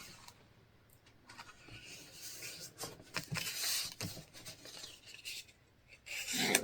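Paper being folded and creased by hand for a craft box, with soft rubbing, scraping rasps that come and go close by, growing louder toward the end.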